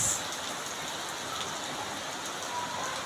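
Steady rain on a day of continuous rainfall, an even, unbroken hiss of drops on surfaces with no voices, holding at a constant level throughout.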